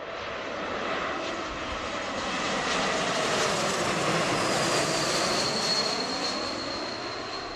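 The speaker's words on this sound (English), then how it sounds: "1-year-old A220." A one-year-old Delta Airbus A220 jet airliner from San Diego roars steadily and loudly at close range, its engine noise building gently toward the middle and holding a broad, rushing tone throughout.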